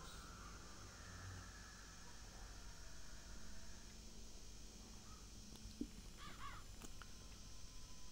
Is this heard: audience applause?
no